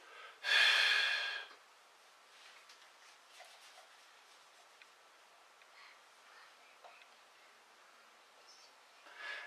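A person does an abdominal exercise at a desk, with one sharp, loud breath near the start and then faint, quiet breathing and small rustles.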